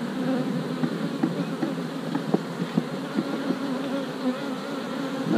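A steady, close buzzing drone of many honey bees swarming around an open hive during an inspection, with faint scattered clicks from handling frames and no voices.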